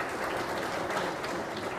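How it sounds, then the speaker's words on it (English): An audience claps for the governors and mayors at a regional master plan presentation for the Trifinio Region, giving a short burst of dense, even applause that holds steady with no voices. "Big round of applause to them as well,"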